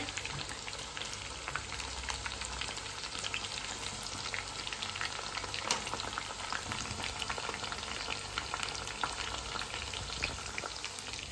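Kebabs frying hot in a pan at home for a festival meal, a dense, continuous crackling sizzle of oil with steady spitting pops and no voices throughout.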